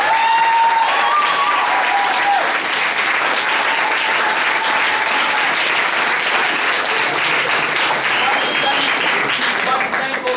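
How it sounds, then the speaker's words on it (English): An audience at a skit night keeps up steady, loud applause for about ten seconds, with some voices and a few shouts mixed into the clapping. "So I think another round of applause."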